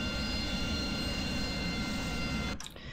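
AV-8B Harrier jet engine in the DCS flight simulator, a loud, steady roaring whine with tonal engine lines, holding constant before dipping abruptly near the end as the throttle moves, then resuming.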